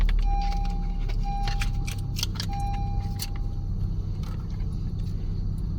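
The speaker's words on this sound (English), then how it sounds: "insert your working key into the ignition and start the car." Honda Civic with a key in the ignition, keys jangling and clinking against the ignition while a steady chime beeps in short bursts over the low hum of the car's engine, close and without talk.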